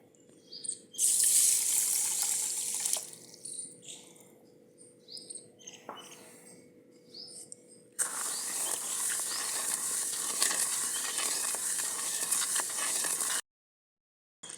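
Water poured into a pan of sugar to make syrup for gulab jamun: a steady splashing, hissing pour runs for several seconds, after softer clinks and kitchen sounds, then stops abruptly.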